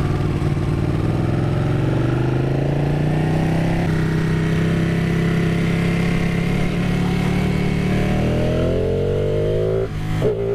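Ducati 959 Panigale engine running under a rider on the road, a close steady mid-pitched drone that rises and falls with throttle, briefly dipping near the end.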